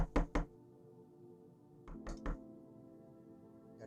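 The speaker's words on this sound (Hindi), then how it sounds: "कांता की खोली का दरवाज़ा उसने खटखटाया।" Knocking on the door of a small rented room: a quick burst of three sharp raps, a pause of about a second and a half, then three more, close and distinct over a quiet background.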